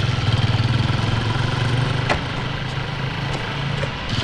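After a breakdown in an old Chinese film, a vehicle engine runs with a steady, mid-pitched idling drone and a faint throb, with a few light knocks over it.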